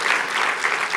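A conference audience at a Young America's Foundation event gives a short burst of loud, dense clapping in reply to a question from the stage. The clapping lasts about a second and no one speaks over it.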